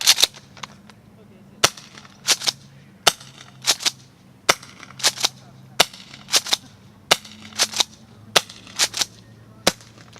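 A JAG Arms SPX2 airsoft shotgun fires a string of sharp, close cracks, often in quick pairs and fours, spaced across the stretch with a low hum beneath.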